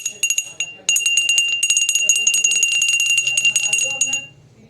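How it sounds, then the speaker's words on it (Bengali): A terracotta bell from the Bishnupur craft village in Bankura is struck repeatedly, giving a close, bright, ringing tone of rapid strikes that decays at the end, with a voice faintly underneath. "কাঁসার ঘন্টার মতো আওয়াজ হচ্ছে না, তবে অনেকটা ওই রকমই আওয়াজ।"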